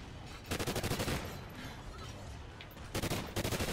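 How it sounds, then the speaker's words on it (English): Machine gun fire in a video game rattles out in two loud, rapid bursts separated by a short pause, dense and close, with no talking over it. "now we got machine gun, we should be all good"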